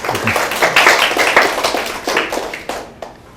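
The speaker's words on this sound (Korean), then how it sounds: "박수." Audience members clap at a lecture on becoming a CEO, a short burst of hand claps that builds and then thins out toward the end.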